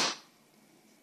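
A single sharp sneeze bursts out at the start, loud and close, then fades quickly into faint room noise with no talking afterward.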